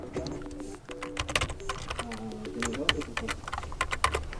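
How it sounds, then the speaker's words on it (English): Password being typed on an HONOR X70i phone screen during a backup restore, a quick run of light taps and clicks mixed with a voice talking over them. "Now type your password"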